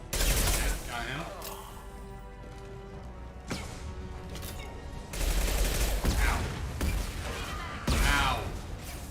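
Bursts of gunfire in the video game Mass Effect 2 Legendary Edition crack out in loud clusters, with a sustained stretch of shots near the end, mixed with game effects and a voice speaking in between.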